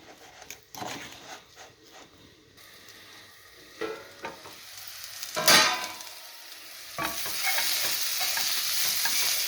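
Seasoned potato and minced meat caramelising in a pan, with scraping stirs and a sizzle that grows louder and settles into a steady hiss toward the end. The sound is close and there is no speech.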